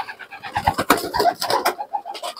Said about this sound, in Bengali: প্রায় 9 বছর বয়স পায়রাটার।